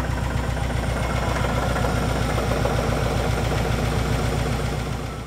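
A Subaru Impreza GT engine with a failing rod bearing runs at a steady idle close by, with a rapid, regular knocking tapping through its low rumble the whole time.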